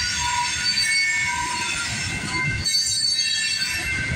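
A train passes at night on the Galt Subdivision at Guelph Line, mile 38, with a steady rolling rumble of wheels on rail and sustained high metallic squeals, loud and close without any talk.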